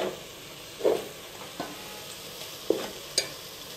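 Onions and cashews fry in a pan with a steady soft sizzle, broken by a few scraping stirs from a utensil, close by and without talking.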